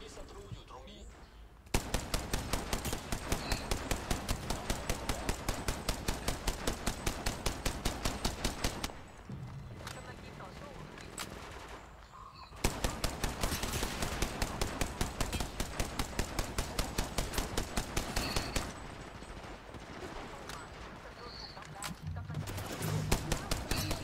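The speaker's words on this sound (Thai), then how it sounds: "มียิงกันข้างหลัง" Sustained automatic gunfire in an online shooter game, long rapid-fire bursts of evenly spaced shots separated by short gaps, loud and close with players' voices occasionally heard beneath.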